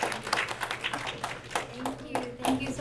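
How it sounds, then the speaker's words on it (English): Audience clapping for the speakers at a panel talk on contemporary art, with brisk, uneven hand claps close by and a voice talking over them. "let's please give a round of applause for our speakers"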